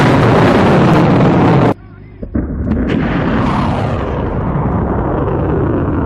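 Iranian missile attack explosions are heard as a loud, sustained roaring blast that cuts off abruptly. A sharp burst follows, then another long rumbling roar that slowly fades.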